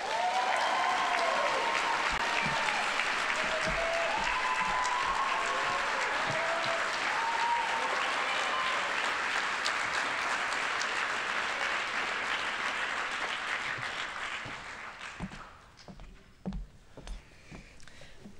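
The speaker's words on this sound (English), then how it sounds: "Everyone, please join me in a round of applause for Juan Rodriguez and Catherine Baggin." Sustained audience applause at a university business school award ceremony honoring two recipients, a dense steady wash of clapping that fades out after about fifteen seconds into scattered claps and room noise.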